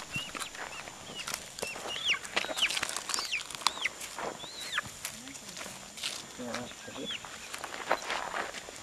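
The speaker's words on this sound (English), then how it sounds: "The fastest chicken in town." Chickens cluck and chirp repeatedly nearby with flapping wings and footsteps, while a person talks over them.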